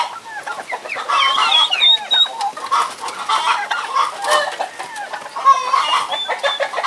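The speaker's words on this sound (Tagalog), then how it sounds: "itong mga heritage chicken, Black Aslorp, mga Rhode Island Red" Heritage chickens, Black Australorps and Rhode Island Reds, cluck and chatter continuously nearby, several birds overlapping in a busy flock.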